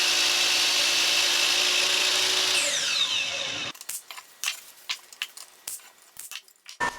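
A power tool trims the bottom of a wooden mountain-shaped shelf, a steady high whine that winds down abruptly, followed by a run of irregular scraping and knocking handling sounds close by.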